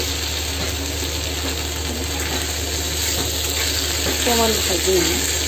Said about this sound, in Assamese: তথাপিতো আৰু অকণমান ভাজিম